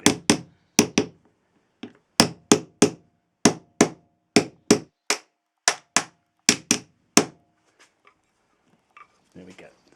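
Sharp metallic taps on a Mini Clubman roof rack clamp as it is knocked into place, about fourteen loud, close hits in an uneven rhythm, followed by a few faint rustling handling noises.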